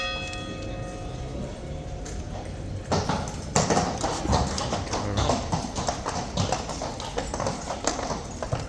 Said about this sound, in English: here come the 2 new horses.